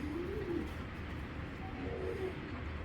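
Giribaz high-flying pigeons coo softly nearby, with a couple of low, rounded calls rising over a steady background murmur.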